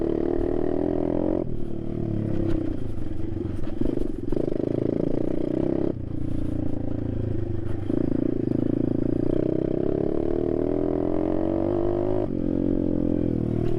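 An Amazon RFZ 125cc dirt bike rides over ruts with a steady, loud engine roar that rises and falls with the throttle, with rattling and scraping from the rough ground and no pauses throughout.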